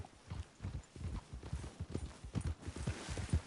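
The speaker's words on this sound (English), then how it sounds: "I'll take his horse." Horse hooves clip-clop in Red Dead Redemption II, a quiet, continuous, rhythmic trot of soft thuds heard alone without talk.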